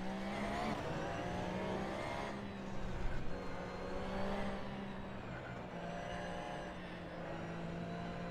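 A racing car in Assetto Corsa on the Barcelona circuit accelerates hard, its engine note rising steadily through the gears with a smooth continuous roar, loud and close with no talking.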